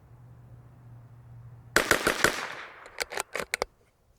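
Bergara BMR X .22LR rimfire rifle fired on an outdoor range: a sharp close shot, then a quick run of cracks, a pause and another tight cluster of about five shots, with no talk.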